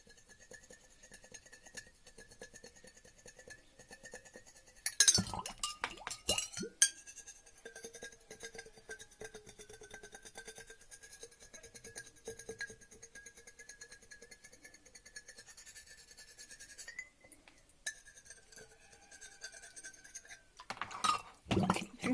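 Back of a knife blade scraping a paper label off a glass jar, faint scratchy rasping strokes running steadily for a long stretch with a few sharper clinks against the glass, no talking.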